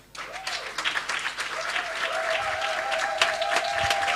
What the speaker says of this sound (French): nous allons acclamer pour maman. Acclamons.